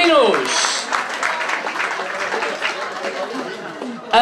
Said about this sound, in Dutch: nogmaals een applaus voor de Bambino's.